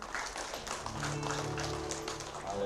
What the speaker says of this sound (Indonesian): Kita berikan tepuk tangan bagi Tuhan.